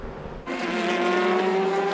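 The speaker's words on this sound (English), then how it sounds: "it looks like now he's going to drop to fourth as Julien Canal comes through on his right-hand side, down into the final corners" Race cars at the 2015 FIA WEC 6 Hours of Bahrain; a loud, close engine note cuts in after a quiet half second and holds a steady high whine as a car passes through the final corners.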